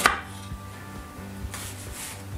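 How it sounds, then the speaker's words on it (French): A knife roughly chops an onion on a cutting board in a home kitchen, with a series of steady, evenly spaced thuds close up and no talk. "on coupe grossièrement un oignon"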